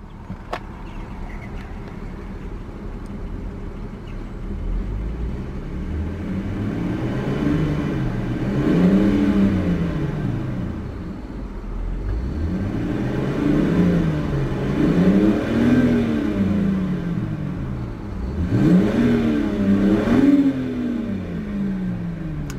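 A 2007 BMW 325i SE Convertible engine catches and idles, then revs up and settles back down three times in slow, swelling waves, loud and close with no talking.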